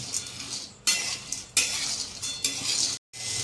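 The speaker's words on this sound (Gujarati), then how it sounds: "આપણે આ રીતના ધીમી ધીમી ગેસે શેકીશું" Mango seed kernels roast in a pan over a low gas flame while a spoon stirs and scrapes them, giving a close, steady rattle and clink. Brief pauses break the stirring, with no voices.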